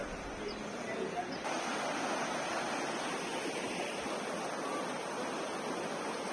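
Waterfalls in the Ourika valley of Morocco pour with a steady, even rush of broadband water noise that holds constant throughout, with no distinct splashes standing out.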